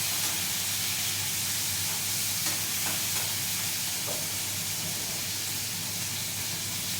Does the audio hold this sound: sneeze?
no